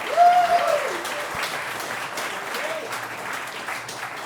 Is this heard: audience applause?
yes